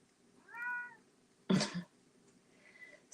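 A hungry cat meows nearby, one clear drawn-out meow followed by a loud, harsh burst and a fainter second call in a quiet room.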